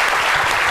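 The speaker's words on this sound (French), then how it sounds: "Merci de l'applaudir très fort." A studio audience on a midday TV talk show claps loudly and continuously in a brief, dense burst of applause.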